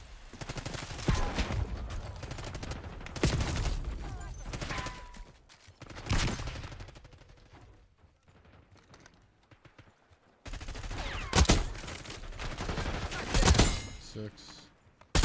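Bursts of rapid gunfire from an enemy marksman in a video game come in several loud volleys separated by short lulls. Close, sharp shots sit over a busy backdrop.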